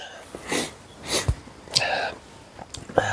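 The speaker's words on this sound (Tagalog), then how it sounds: "Sorry, inuubo ko." A person with allergies and asthma gives a few short, harsh bursts of coughing and throat noise close to the microphone, spaced irregularly with breaths between.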